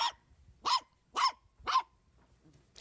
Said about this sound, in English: I hear barking